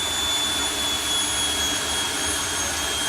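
Jet engine of a jet-powered car roaring continuously at a Bug Jam festival flame and afterburner show, a loud, steady, dense blast with no pauses.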